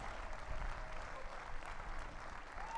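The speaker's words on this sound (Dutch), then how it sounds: "Geef ze een applaus." A welcoming crowd in the Netherlands applauds the returning bronze-medal women rowers, a steady, fairly distant patter of clapping with a low rumble of the outdoor gathering underneath.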